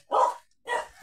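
A dog barks twice in quick succession at a junk collector's house, the barks short, fairly close and clear with no talk over them.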